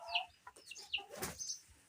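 Aseel hen clucking before laying an egg, a few soft, close clucks and squawky calls in quick irregular succession over a quiet background.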